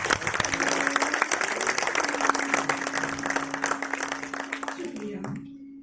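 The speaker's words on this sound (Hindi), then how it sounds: "तालियों की गड़गड़ाहट थोड़ी कम है।" Steady applause from an audience at a storytelling performance of Jain tales, dense clapping with a faint sustained tone underneath, fading out at the end.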